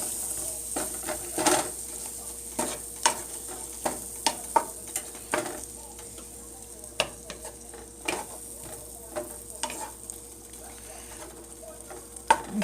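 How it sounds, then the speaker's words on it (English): Chicken and green beans heat in a pan while being stirred, a soft sizzle under repeated scraping and clicking utensil strokes at an uneven rhythm, close and without speech. "Okay, then we're going to go ahead and stir all this up."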